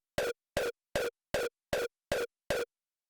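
A distorted rawstyle kick compressed with a FabFilter Pro C2 hits seven times at an even pace, each a short, punchy, bright burst with a crisp attack, separated by silence.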